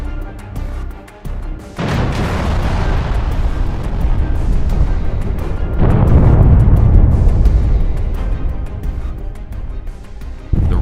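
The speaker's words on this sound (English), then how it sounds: "They deployed a Su-34 aircraft equipped with heavy glide bombs FAB-250 and began bombing the border checkpoint on their territory" FAB-250 glide bombs dropped from a Su-34 explode on a border checkpoint, two heavy rumbling blasts a few seconds apart. Each swells into a long, loud low roar that lingers over the rest of the stretch.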